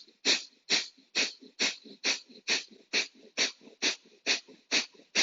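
Rapid, rhythmic panting breaths for a breathing exercise, a dozen quick, even huffs about two per second, close and steady with no talking.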